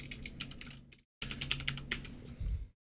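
Quick bursts of keystrokes on a computer keyboard, close and crisp, split by a short silent gap before a second run of typing ends with a heavier tap; no speech.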